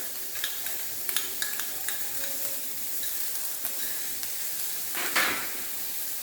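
Ginger, garlic and half an onion sautéing in butter hiss in a steady close sizzle, with occasional soft scrapes and taps of a spoon stirring the pan.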